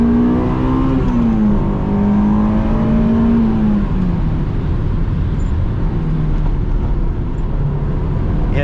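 A 2007 Honda S2000 AP2 driven on winding streets, its engine droning steadily from inside the cabin, the pitch climbing and easing as the car accelerates and slows through corners.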